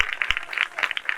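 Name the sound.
congregation clapping loudly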